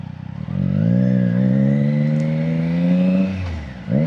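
A Triumph Trident 660 motorcycle engine drones loudly and steadily while riding at speed, its pitch rising then settling, with a brief dip and a fresh surge near the end.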